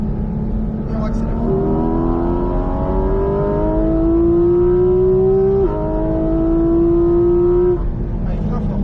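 A Porsche GT4 RS accelerates hard on the Mettet circuit, its engine note climbing steadily through the revs with a brief dip at a gear change before rising again, loud and close, with an instructor's voice faintly over it.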